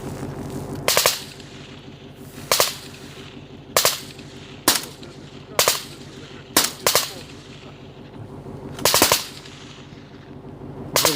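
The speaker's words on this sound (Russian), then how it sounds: "Тем временем Дима стреляет очередями." A machine gun fires in short bursts at an outdoor range, seven or eight loud rapid volleys spaced a second or two apart over a steady low engine-like drone.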